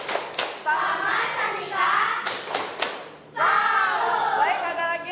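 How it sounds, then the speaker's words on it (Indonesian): A school class claps together in a short patterned cheer, bursts of sharp hand claps broken by voices calling out and chanting between them. "Oke, kasih tepuk salut"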